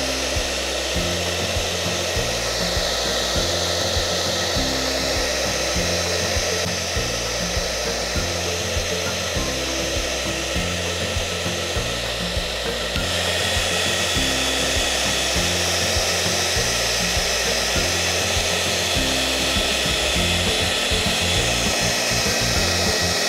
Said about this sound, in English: warm the hairdryer up and start melting the transfer onto the candle with the hairdryer.